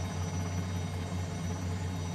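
R44 Raven II helicopter in a flight simulator game, a steady continuous engine and rotor drone with a strong low hum, even and unbroken throughout, no talk.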